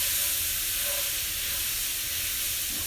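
Onions caramelizing in a pan give a steady, soft hiss and sizzle, faint and continuous with no talking over it.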